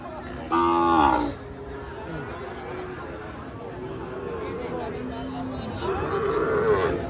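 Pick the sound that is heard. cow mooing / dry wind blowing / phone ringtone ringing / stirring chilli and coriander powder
cow mooing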